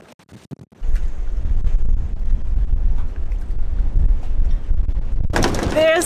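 Heavy wind from a 60-knot storm on Lake Erie buffets the microphone in a continuous low roar, with a brief burst of louder, higher gusting and rattling near the end.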